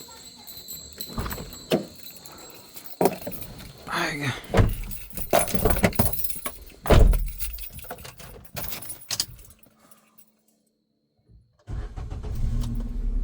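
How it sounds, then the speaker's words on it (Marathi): Keys jangle and clatter as a vehicle is readied to be taken out, followed by an engine starting up; after a short silence the engine hums steadily, with some talk nearby. "फटाफट आपली गाडी काढूया"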